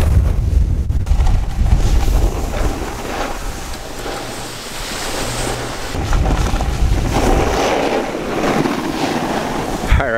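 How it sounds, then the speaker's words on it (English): Strong gusts on a snowy ski slope at Mont Tremblant batter the microphone, producing loud, continuous roaring buffets that swell and ease for about ten seconds, with no talk. "Oh God, it's windy."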